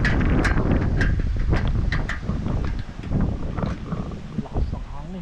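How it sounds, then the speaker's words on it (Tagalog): Strong typhoon wind buffets the microphone in gusty bursts outdoors near a market, with people talking over the rushing noise. "Lakas ng hangin."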